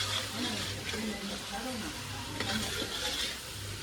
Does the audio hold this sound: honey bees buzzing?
no